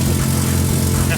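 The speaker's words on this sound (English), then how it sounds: "We told you we would start the car, and we started the car." A freshly engine-swapped Subaru WRX STI idles right after its first start, a steady loud low rumble close by, with voices talking over it.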